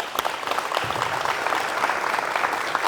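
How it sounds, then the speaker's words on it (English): An audience at a coaches clinic applauds the demonstrators with dense, continuous clapping that holds steady and fairly loud throughout, with no talk over it. "give them a little claps"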